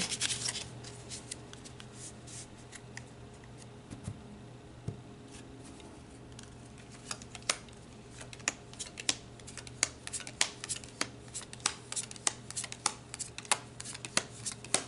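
Tarot cards shuffled and pulled by hand: soft riffling and rubbing at first, then a run of crisp, close card snaps and flicks at an irregular rhythm against quiet room tone.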